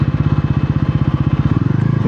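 Bajaj Pulsar 373cc single-cylinder motorcycle engine and exhaust revving loudly up close, a fast steady thumping pulse with a gruff exhaust note that shifts pitch near the end.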